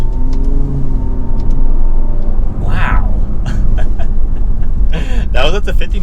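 A 2022 Nissan Altima 2.0 SR with VC-Turbo engine and CVT accelerates hard, a steady loud engine drone building up, with a voice talking over it in short bursts.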